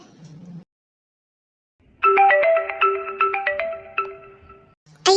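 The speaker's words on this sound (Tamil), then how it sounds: "சசி அப்பா ஃபோன் பண்றாங்களே" A mobile phone plays a bright, melodic ringtone phrase for an incoming call, loud and close, lasting a few seconds between short bursts of other sound and a stretch of silence.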